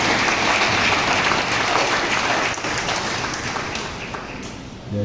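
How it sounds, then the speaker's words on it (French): Audience at a graduation ceremony for a biblical studies centre claps loudly and continuously, a dense close applause that stays strong before easing slightly toward the end. "Applaudissez encore s'il vous plaît"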